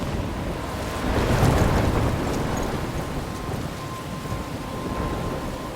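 A thunderstorm in Life Is Strange, with dense rushing rain and gusting wind that swell into a low rumble before settling into a constant roar. No voices are heard.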